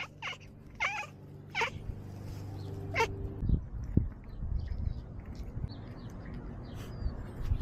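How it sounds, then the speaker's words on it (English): A cat meows several times in a row, with four short rising cries near the start, then a quieter stretch of thumps and rustling and low background hum, with no speech. "Oh my goodness, meowing."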